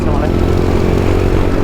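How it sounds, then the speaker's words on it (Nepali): A dirt bike engine drones loud and close while riding an off-road trail from Kathmandu to Melamchi in Nepal, holding a steady, rough mid-pitched rumble throughout. "डट बाइक पनि यस्तो मजाले कुदाउनु मजा आइरहेछ मलाई"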